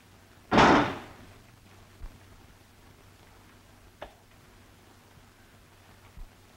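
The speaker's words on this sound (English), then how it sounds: "When you open the door and pull it closed, it slams and the match drops out." A door pulled closed slams once, sharp and loud, as a match drops from its latch. A few faint knocks and taps follow in an otherwise quiet room.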